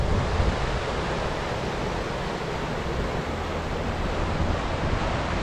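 Water of Sourmilk Gill, a fell stream near Seathwaite, rushes in a steady, dense roar, close and unbroken throughout with no voices.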